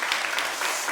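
A church congregation applauds its choir, soloists and conductor, a brief dense patter of many hands clapping together at close range.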